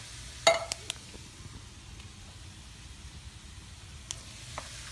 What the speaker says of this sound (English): So now we're adding our diced tomatoes to our mixture, and we're gonna saute that for a little bit longer.